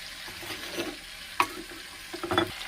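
Chicken frying in a pan as a girl stirs it, giving a steady close sizzle with a few louder scraping stirs and clatters, no voices.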